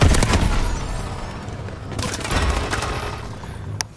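TAC 19 shotgun fire in Advanced Warfare, several loud booming shots with decaying tails, a cluster at the start and another around two seconds, plus a sharp click near the end.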